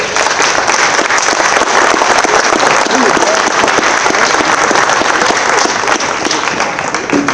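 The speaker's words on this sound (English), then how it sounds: "let's give the candidates a round of applause." Sustained, dense audience applause for political candidates at the close of an evening political forum, steady and loud throughout with no pauses.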